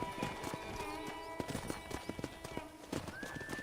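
Horse hooves clip-clop in a quick, even rhythm during a ride in Red Dead Redemption, with whinnies rising above the steady footfalls. Close and moderately quiet, with a tonal music bed underneath.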